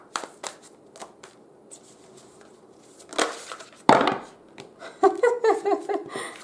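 Tarot cards shuffled by hand, with scattered light riffles and taps followed by denser bursts of card flutter and slapping, close and moderately loud, with brief handling noises between.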